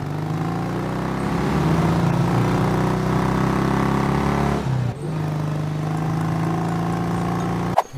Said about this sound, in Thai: เสียงรถมอเตอร์ไซค์